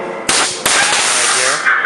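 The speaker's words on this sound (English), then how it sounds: "An air cannon" Haunted house air cannon blast: two sharp, loud bursts of rushing air a fraction of a second apart, followed by a sustained hissing roar that fades slightly at the end.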